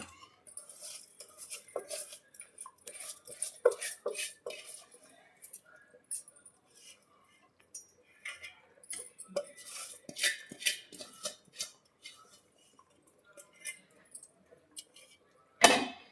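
Metal spoon clinking and scraping against a pot while rice is stirred into boiling water for Sunday biryani, intermittent close taps and scrapes with brief pauses and a sharp clank at the end.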